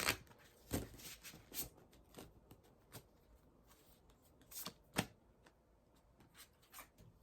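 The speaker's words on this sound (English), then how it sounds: "And shuffle one more time." Tarot cards shuffled by hand: a run of crisp riffling flutters and soft slaps in irregular bursts, close and fairly quiet with no talking.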